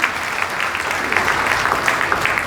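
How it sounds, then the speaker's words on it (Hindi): A church congregation claps together at an inauguration ceremony, a steady, dense wash of hands filling the room for a couple of seconds with no voices over it. "एक बार जोरदार परमेश्वर की महिमा के लिए ताली बजाएं"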